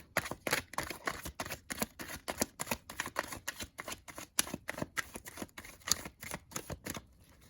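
Tarot cards being shuffled in quick, crisp riffling bursts, a steady flurry of close papery flicks and snaps running continuously with no talk over it.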